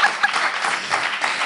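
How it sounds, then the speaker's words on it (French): Studio audience applause greeting a guest arriving on a French-language TV talk show set, a brief steady wash of clapping at moderate level with no voices. "Sous vos acclamations, merci beaucoup."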